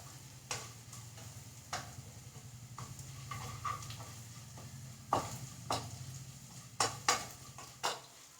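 Moringa leaf thoran stir-fried in a pan, soft frying sizzle under repeated scraping strokes and spoon clinks against the pan, fairly quiet and close.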